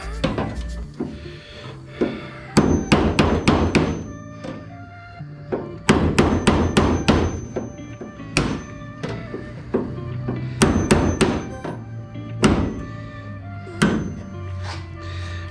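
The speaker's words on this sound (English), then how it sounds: "take this piece out of here with the chisel" A hammer drives a chisel against rivet heads on a crashed 601XL aircraft during teardown, giving sharp metallic knocks in rapid bursts of several blows with pauses between, loud and close with no talking.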